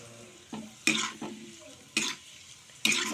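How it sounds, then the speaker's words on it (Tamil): Vermicelli roasting in ghee or oil, a soft sizzle punctuated by three or four sharp spoon scrapes and clinks against the pan, close and spaced irregularly. "இப்போ இதை வறுத்தாச்சு"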